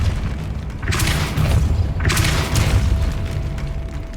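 The Depulso spell is cast in the Hogwarts Legacy video game, producing two loud, booming whooshes about a second apart over a low, constant rumble.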